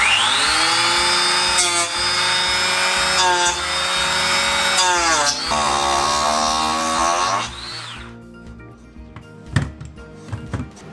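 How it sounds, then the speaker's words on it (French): A power planer whines loudly and continuously across wood for several seconds, its pitch dipping with each pass, then cuts off into a few clattering knocks. "on va le raboter un petit peu pour qu'il soit droit"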